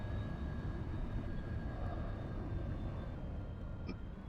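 Airbus A321neo airliner engines in a flight simulator game hum as a steady, quiet broadband roar with faint high whine tones, on an American Airlines flight from Los Angeles to San Francisco.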